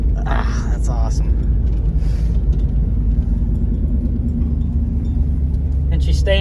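A 1987 Chevy Silverado engine that had sat for six years idles steadily as a low, continuous rumble close by, with brief talk and cabin noises over it.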